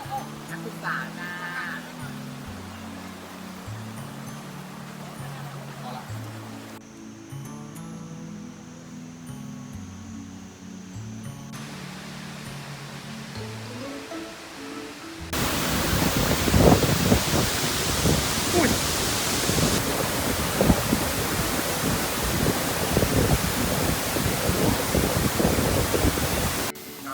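Rushing water at Khlong Lan waterfall in Kamphaeng Phet, a steady broadband roar that swells louder partway through, with a voice talking over the earlier part.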